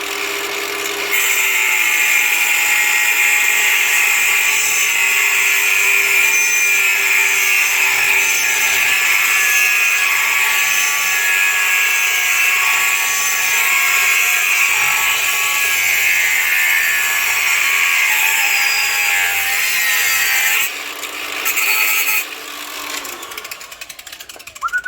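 A power tool cuts a steel panel piece for a MkV Cortina restoration, a loud continuous high-pitched whine and grind running close for about twenty seconds before it falters and stops.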